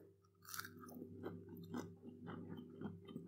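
A crunchy, spicy buffalo-flavoured Quorn takeaway fillet is being chewed close up, with repeated soft crunches and chewing sounds in an uneven rhythm and no talking.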